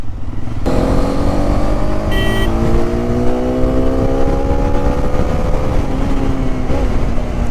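A car engine drones steadily under load as it climbs a hill near Ratnagiri, its pitch slowly rising and falling, close and continuous with rumbling road noise throughout.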